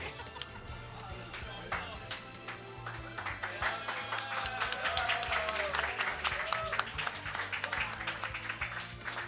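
Applause at a Super Smash Bros. gaming event builds from a few scattered claps into a dense round of clapping that holds steady, with faint chatter underneath.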